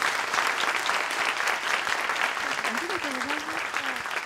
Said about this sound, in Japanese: パネラーの皆さんに拍手をしていただいて終わりたいと思います